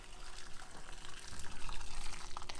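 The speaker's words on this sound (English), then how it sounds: "Boiling water into the cauliflower." Boiling water pours steadily from a kettle onto cauliflower in a pan, a close, continuous gushing splash lasting a few seconds.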